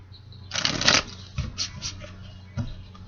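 Tarot cards shuffled by hand in one brisk riffling burst, followed by a few softer taps and slides of the deck, close and quiet with no talking.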